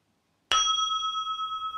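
A single bright bell ding strikes sharply after a moment of silence, then rings on with a clear, sustained shimmering tone that slowly fades.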